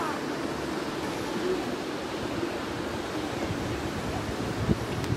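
Orekhovsky waterfall in Sochi, heard from the stairs leading down to it: rushing water makes a constant broadband roar, steady and unbroken, with faint wind buffeting.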